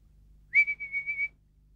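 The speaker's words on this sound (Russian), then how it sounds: "Свисток свистеть может, а рыбка что?" A small toy whistle is blown once, giving a short, clear high-pitched tone with a slight warble that lasts under a second, against a quiet background.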